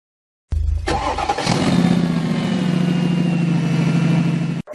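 An Exceed VX with a 2000cc four-cylinder, 16-valve engine starts abruptly after a moment of silence, then settles into a loud, close, steady idle rumble with a rising rev early on.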